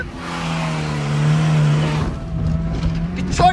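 A VAZ 2107 car stuck in mud revs its engine loudly and steadily up close. The revs then drop and the engine stutters, and a sharp clunk comes near the end.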